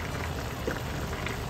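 Pork adobo with bones simmers in a non-stick pan, giving a steady, close bubbling hiss with small popping blips throughout and no talking.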